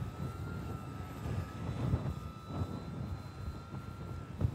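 An FMS 1700mm PA-18 Super Cub RC model airplane drones with a steady electric motor whine while flying in strong wind, with gusty wind rumble buffeting the microphone throughout.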